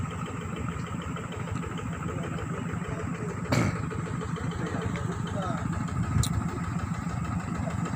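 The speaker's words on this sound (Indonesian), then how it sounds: "Motor operasional kami di sini dia jenis Honda ADP." A Honda ADP motorcycle idles nearby with a steady low putter at an outdoor gold-mining site, while a person talks over it and there are a couple of brief knocks.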